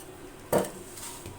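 A utensil clatters once against a pan while chicken chow mein is mixed, a short, sharp clink over quiet kitchen background, followed by faint scraping.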